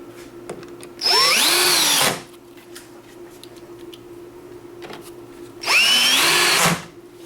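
A power screwdriver drives screws while fitting a Kevo smart lock latch, its motor whining in two loud bursts about a second long, each ending in the rapid ratcheting chatter of a slipping clutch set to low torque, with quiet pauses between.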